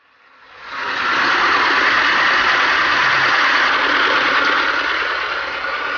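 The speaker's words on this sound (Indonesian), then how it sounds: "kita lakukan dulu penyedotan air dengan mesin sehingga memudahkan pengambilan udang" An engine-driven pump drawing water out of a shrimp pond starts up and settles into a loud, steady mechanical drone with a rough, vibrating texture, running continuously.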